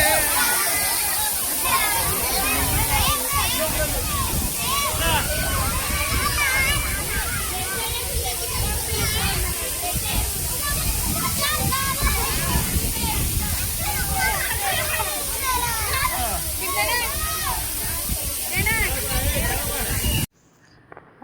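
Water of the Katika waterfall pouring and splashing in a loud, steady roar close by, with voices talking over it, cutting off abruptly near the end.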